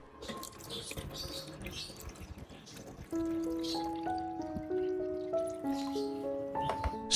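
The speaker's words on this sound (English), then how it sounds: "Pour 500 milliliters of water." Water is poured into a jar, soft trickling and splashing at first, then a steadier rising pour whose pitch climbs as the jar fills, fairly quiet and close, with no voice over it.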